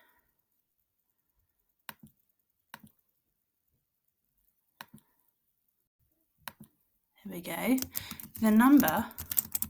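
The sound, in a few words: typing on keyboard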